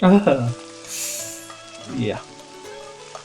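Gyoza frying in a pan in a visual novel scene, a soft steady sizzle hissing under music and a brief spoken word near the start.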